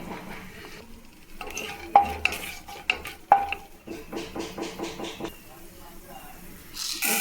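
Chana dal frying in hot oil with cardamom, cinnamon and curry leaves while being stirred, with scraping strokes of a spoon against the pan over a soft sizzle and a few sharp clinks.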